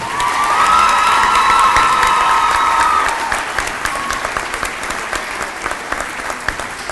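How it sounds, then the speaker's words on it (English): Audience applause fills a hall at the 2013 Battle of the Belts awards, loud and dense for about three seconds with a few cheers, then thinning into scattered, fading claps. "Let's give these schools and all of the participating schools a round of applause."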